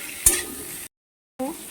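Fish curry ingredients fry and get stirred in a pan, making a soft steady sizzle that opens with a sharp clatter, then breaks into silence before resuming.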